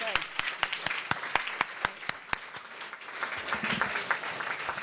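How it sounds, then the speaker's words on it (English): An audience applauds at a global development lecture, honoring a guest named Helen. Fairly faint, with sharp individual claps at first that swell into a fuller, continuous round of clapping. "Let's give a round of applause for Helen."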